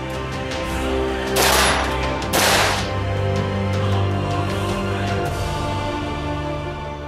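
An AR-15 rifle fitted with a Wheaton Arms Pro 3-Gun mini muzzle brake fires Red Army Standard 5.45 ammunition, giving two sharp, loud cracks about a second apart over a steady background hum.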